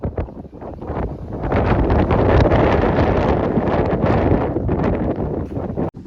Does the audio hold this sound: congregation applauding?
no